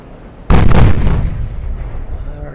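Naval artillery fire from warship guns in the Ultimate Admiral: Dreadnoughts game: a single loud, deep boom that erupts abruptly, then rolls on into a long, rumbling decay.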